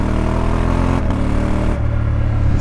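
A 2024 Honda Africa Twin motorcycle engine pulls hard from low revs, a loud, close, steady drone that shifts pitch as it accelerates through gear changes, with no talking.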